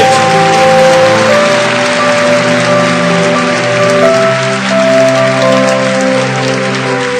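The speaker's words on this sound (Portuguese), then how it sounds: "Vamos aplaudir forte, gente." Church congregation clapping loudly during a sermon, a thick continuous wash of applause under sustained organ or keyboard chords, steady in level throughout.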